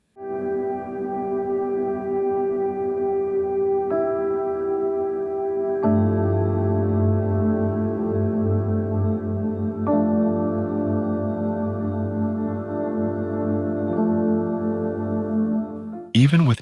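Sustained synthesized tones ring together with piano chords, layered and slowly shifting, with a brief burst of noise at the very end.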